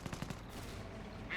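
Machine gun fire from a Bren carrier in the wartime strategy game Company of Heroes: a short, quick burst of rapid shots at the start, then a low rumbling battle bed.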